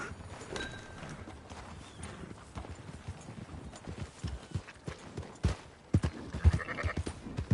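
Horse hooves clip-clop steadily in Red Dead Redemption 2, a rhythmic run of hoof beats close by over a busy ambient game background, with no talking.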